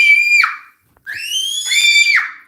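Two long, shrill, piercing screams from a child at home, loud and close, the first short and the second drawn out and wavering, split by a brief silence with no talk.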